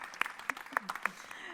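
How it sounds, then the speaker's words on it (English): A few scattered, light claps from a small audience at a Global Forum on Migration and Development morning session, quiet and sparse, with faint murmuring behind them. "if we'd like to clap, we can"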